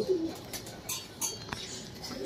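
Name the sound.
pigeons cooing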